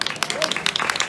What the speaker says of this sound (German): Die Leute brauchen noch einen Applaus.